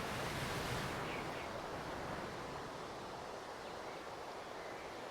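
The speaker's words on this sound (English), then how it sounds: "Little waterfall." A small waterfall in the Jurassic World Evolution 3 video game, built in a Hawaii sandbox, gives a steady broadband rush of falling water that holds at an even, moderate level throughout.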